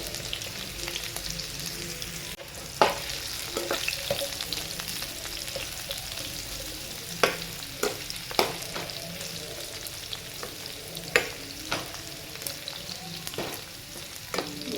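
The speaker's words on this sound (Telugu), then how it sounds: "వీటిని మీడియం ఫ్లేమ్లో పెట్టుకొని ఫ్రై చేసుకోండి" Bitter gourd fries in oil over a medium flame, giving a steady close sizzle that runs the whole way, broken by scattered scraping and tapping from stirring.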